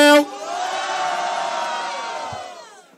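Crowd at the Batalha do Tanque rap battle in Rio de Janeiro roaring and cheering for rapper Fael during the vote, a loud sustained swell of many voices that follows a brief shout and fades toward the end.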